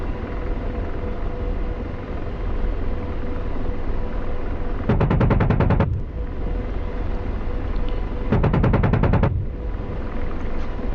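AH-64 Apache helicopter cannon fire in the DCS combat flight simulator, two rapid bursts of about a second each over a steady rotor and engine drone, loud and close.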